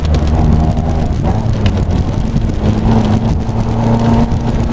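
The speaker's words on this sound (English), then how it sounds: "That rasp from the exhaust." Exhaust rasp from a Lotus Elan Sprint accelerating on the road, a loud, gritty engine drone with rising tones and some wind and road noise, heard from inside the car for several seconds.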